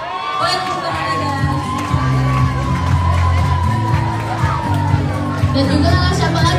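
A school crowd at a book-week debate competition cheers loudly, with children shouting and whooping as a judge is welcomed, in a steady, busy din with amplified speech.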